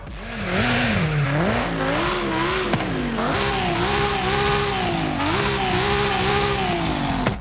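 Race car in Forza Horizon 5 fitted with an antilag system and side-exit exhaust, its engine droning loudly and steadily with wavering pitch, rising and falling throughout with no talk.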